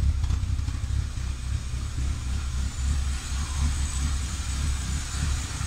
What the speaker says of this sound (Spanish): Como pueden escuchar, la marcha es completamente irregular.